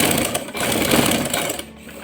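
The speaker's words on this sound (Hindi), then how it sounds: "उसके बाद हम इस गले को अटैच करके इसकी सिलाई लगा लेंगे।" Continuous, close sewing machine stitching, running steadily with a slight dip near the end, as a collar neck is attached and sewn.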